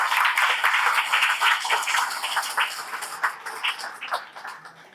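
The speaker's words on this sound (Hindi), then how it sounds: "इनके लिए तालियां हो जाए।" An indoor audience at a wellness product event claps for a first-time attendee, a few seconds of scattered, lively applause that gradually thins out and trails off.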